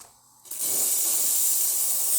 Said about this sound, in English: Now we're just going to quickly steam.